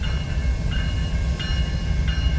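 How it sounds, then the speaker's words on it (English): A BNSF grain train rumbles past at close range in Galesburg, its heavy wagons producing a loud, continuous roar with steady rail noise and no voices. "This train being a grain train."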